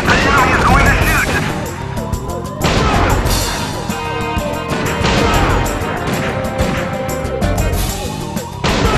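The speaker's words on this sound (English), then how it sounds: "The enemy is going to shoot!" Enemy gunfire in the arcade sniper game Silent Scope rings out loud and close as dense bursts of shots and crashing impacts, mixed with game music and effects.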